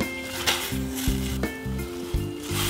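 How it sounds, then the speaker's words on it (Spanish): Potatoes and cabbage go into a pot of boiling water, giving a steady sizzling, bubbling wash broken by a few soft clunks of food and utensils against the pot, fairly quiet and with no talk. "En una olla con agua hirviendo echamos las patatas primero"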